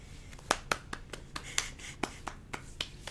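Scattered, quiet hand claps sound in an irregular burst of about a dozen sharp hits, close by, with no talking over them.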